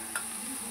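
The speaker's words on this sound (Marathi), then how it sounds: "थोडंसं फ्राय करायचं." Food fries quietly in a pan in a home kitchen, a faint steady sizzle with one brief clink of utensil, no voices.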